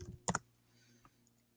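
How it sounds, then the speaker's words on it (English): A computer keyboard used to type a search into a reference database: a tight cluster of quick, close key clicks at the start, then a couple of faint lone taps in a quiet room. "So if I type in Thomas Jefferson,"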